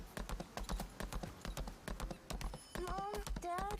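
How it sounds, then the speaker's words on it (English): Horses clip-clop along in the Lost Ark video game, a steady stream of close, evenly spaced hoofbeats with short whistling game tones near the end. "Look at those horses"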